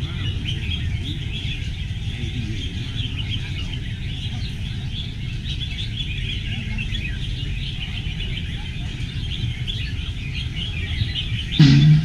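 Red-whiskered bulbuls sing at a bird contest, a dense chorus of overlapping chirps and warbling calls running continuously from many birds, with crowd murmur beneath and a short louder thump at the end.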